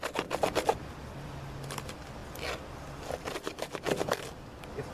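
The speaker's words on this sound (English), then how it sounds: "Then cut through that side." A collapsed corrugated pipe being cut clean through, heard as clusters of short, dry rasping strokes that start and stop in uneven bursts, close by with no talking.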